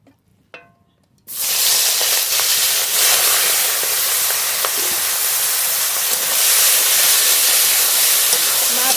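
Prawns dropped into hot mustard oil in a kadai, bursting into a loud, steady sizzle that hisses on without a break after a faint clink just before.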